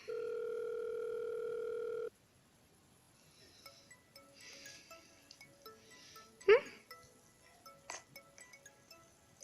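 A steady telephone ringing tone from a phone call in Marvel's Spider-Man video game, one unbroken tone for about two seconds and then silence, followed by faint clinks and soft background sounds.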